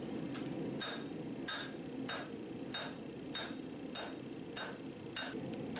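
A hot farrier's rasp being hammered into a small forge-welded tomahawk: about ten sharp, evenly paced hammer strikes ring out over a steady, loud roar of forge noise, with no speech.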